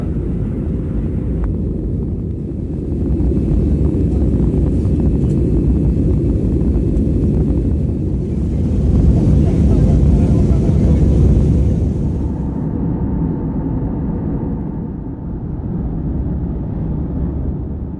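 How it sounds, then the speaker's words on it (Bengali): A loud, steady roar of aircraft engines as a plane speeds down the runway at night, swelling midway and then dropping to a lower, muffled hum as it climbs after takeoff. "প্লেন ছুটছে রানওয়ের ওপর দিয়ে জাস্ট টেক অফ হয়ে গেল"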